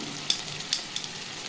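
Poppy seed paste ground with red chillies being stirred in a frying pan, giving a few faint scraping clicks over a low, steady sizzle, with no voices.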